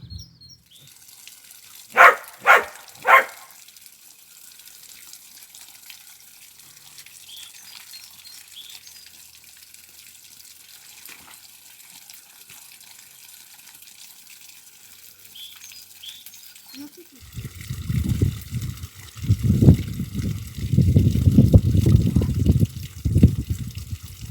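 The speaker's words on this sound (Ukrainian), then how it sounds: "Зараз включаємо частеньку водичку." Water runs into a freshly cleaned garden pond: a faint steady trickle with a few bird chirps early on, then a louder, rough gushing rumble in the last seven seconds.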